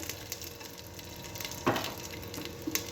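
Ginger garlic paste sautéing in hot ghee for Hyderabadi mutton marag, a soft steady sizzle with one brief louder hiss of frying midway, close and fairly quiet, no talking.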